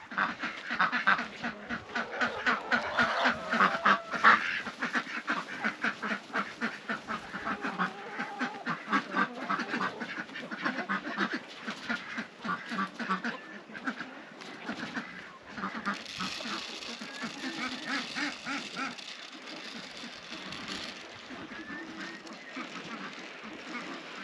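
A flock of ducks quacks continuously in rapid, overlapping bursts, loud and close, thinning slightly toward the end.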